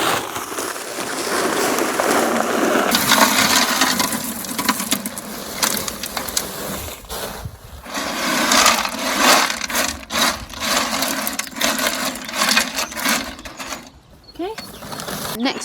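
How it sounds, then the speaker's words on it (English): Pea gravel rattles and rushes as it is poured into the bottom of a grey planter pot, a loud, dense gritty cascade that surges and eases in waves with clattering pebbles throughout. "drainage must go in the bottom first, and to do that I've got some pebble gravel"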